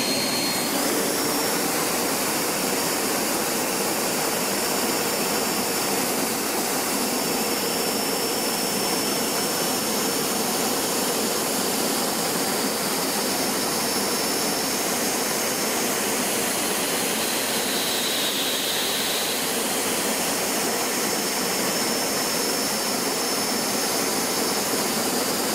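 An EGO 650 CFM battery leaf blower runs with its nozzle removed, giving a loud, steady roar of rushing air for the whole stretch, with no talking.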